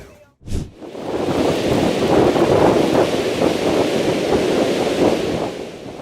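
Strong wind gusts at the Burning Man festival, with 50 mph winds and thunderstorms, roar steadily as loud, broad rushing noise buffeting the microphone, rising after a brief thump and holding for several seconds.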